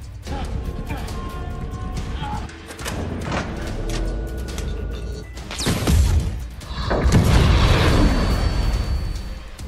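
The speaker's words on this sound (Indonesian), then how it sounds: "Robert membunuh asistennya si Teddy dengan bom yang terbuat dari gas LPG." A bomb made from LPG gas explodes in an action film scene, with a loud boom and crash bursting out after tense sound effects and followed by roaring, rumbling debris.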